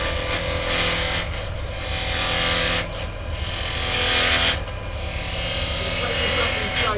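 A wood lathe spins while a turning tool cuts the workpiece against the tool rest, producing continuous close scraping and rasping with brief drops as the tool lifts away.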